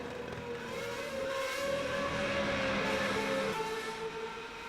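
Formula V8 race cars lapping the Catalunya circuit, a steady sustained engine drone with a high whining tone that swells slightly and fades, heard at a distance without talk.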